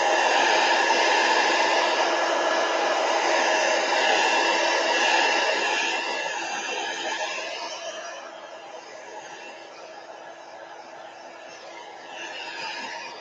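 A hair dryer blows steadily on tissue paper envelopes, a constant airy whoosh with a hum that softens partway through and then continues more quietly.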